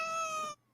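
A cat gives one brief, clear, drawn-out meow, tonal and fairly close, that cuts off sharply into silence.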